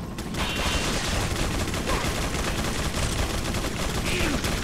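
Dense, continuous gunfire from the video game Resident Evil 4, a steady loud barrage of rapid shots and impacts filling the whole stretch with no pauses and no clear talk.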